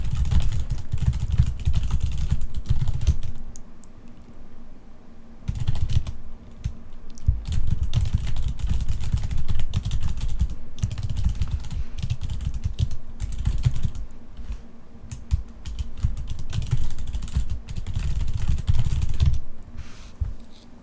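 Fast, continuous clatter of keys on a computer keyboard while a gamer types a message between Quake Champions matches, close and fairly loud over a low hum, with a couple of brief pauses.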